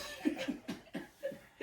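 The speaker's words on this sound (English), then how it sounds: "And then she coughs again." Someone coughing in short, repeated bursts, several quick voiced hacks close to the listener with brief pauses between them.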